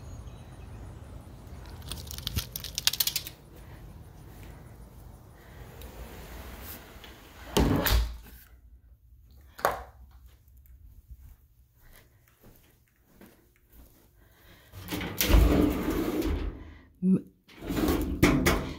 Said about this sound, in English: They look wood, but they're metal. You could hear them actually.